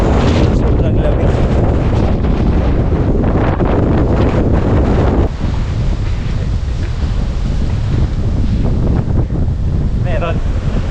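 Strong wind blasts across a microphone on a mountain trail, a loud, constant roar that buffets without a break and drops a little partway through, with a voice faintly underneath.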